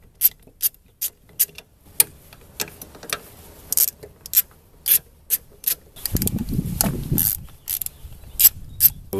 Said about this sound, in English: So we're going to get our 8mm socket. Got that prepared, and now we're going to go ahead and remove these.